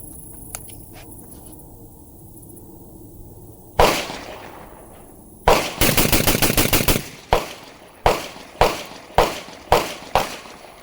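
A Beretta 1301 tactical semi-automatic shotgun fires outdoors: a single loud blast, then a rapid string of about eight shots in quick succession, followed by several more spaced shots at a steady rhythm, each sharp and close.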